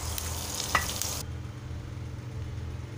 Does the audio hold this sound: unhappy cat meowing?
no